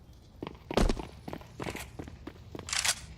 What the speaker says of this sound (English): You can hear the footsteps